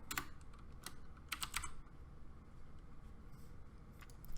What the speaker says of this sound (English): Here, just type in your name,